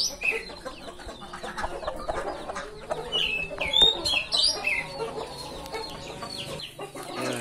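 Fighting chickens cluck and chatter continuously close by, with a few sharper squawks rising above the flock.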